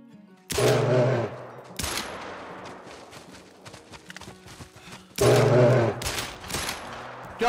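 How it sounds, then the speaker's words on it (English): Rapid bursts of 10mm Glock pistol fire aimed at a charging bull in Call of the Wild, two loud clusters of shots separated by quieter rustling movement, with no talking. "I know I said I'm only going to throw two into him, but he kept running, so we had to keep shooting"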